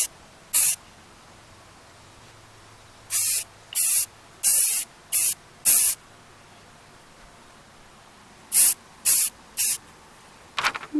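Short bursts of aerosol spray paint hit an upside-down vase in a quiet room, several separate hissing blasts: one early, a cluster of four in the middle, and three more near the end.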